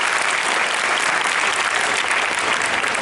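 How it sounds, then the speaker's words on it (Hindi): Loud, sustained applause from a crowd at a school event in Nagda for girls of a government girls' higher secondary school, a continuous even roar of clapping with no break. "ताली बजाइए"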